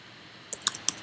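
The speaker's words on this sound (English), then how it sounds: "I'm just typing it in to answer the question." Three or four crisp clicks of keys being typed on a computer keyboard, quick and close, following a moment of near silence.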